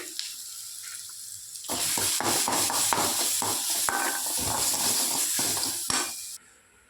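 Mustard seeds, asafoetida, dried red chilli and crushed black pepper sizzling in hot oil for a rasam tempering, a loud crackling fry with spoon stirring that starts abruptly and runs steadily before dropping away.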